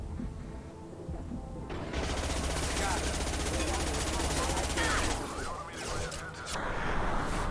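Rapid automatic gunfire in Mass Effect 2, a dense sustained burst of shots lasting several seconds, loud, followed by scattered impacts and mechanical clatter, with a player's voice talking over it.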